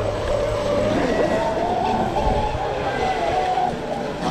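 A small RC boat motor drones steadily with a whiny tone over water, close and fairly constant.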